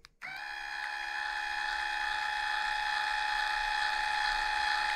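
An electric hideaway headlight conversion motor on a Cougar starts abruptly by remote control and runs with a steady, close whirring gear drone for several seconds.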